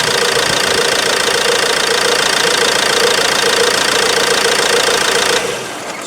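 The 1.8L Duratorq TDCi diesel in a Ford Transit Connect idles loud and close with a steady knocking clatter, then cuts off near the end and leaves quieter fading noise.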